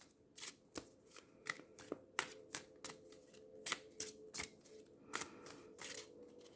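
A tarot deck is shuffled by hand in uneven bursts of soft slaps and riffles, close and quiet, with no speech.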